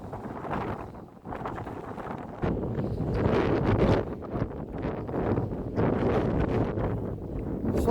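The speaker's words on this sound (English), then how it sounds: "Sorry, it's quite windy today, isn't it?" Heavy wind buffeting the microphone on the Headland at Hartlepool, a loud continuous rumble with gusty surges throughout, briefly easing before growing stronger.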